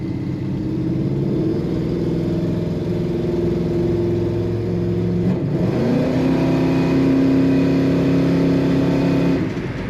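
A 1963 Plymouth Belvedere engine revs up and accelerates steadily when kicked down, its droning pitch climbing and then shifting as it pulls harder, heard from inside the car without talk.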